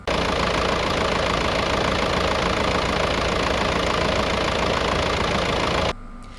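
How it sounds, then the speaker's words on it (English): A used diesel car engine idles steadily and close by, a dense even rumble that holds for about six seconds before stopping abruptly. "That sounds perfect for a diesel."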